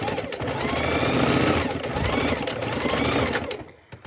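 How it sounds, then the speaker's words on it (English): A sewing machine stitches a fabric bowl cozy close up, running as a steady, rapid needle chatter that briefly slows for backstitching and pauses near the end. A voice talks quietly under it. "I'm backing up, needle down, foot up, pivot, and then I'm only coming up about a ½ inch, back all the way to lock in my stitches"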